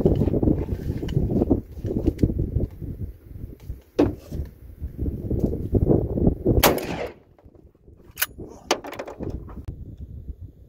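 A shotgun fires slugs at an outdoor target, with a few sharp, loud reports spaced apart over wind and rustling handling noise.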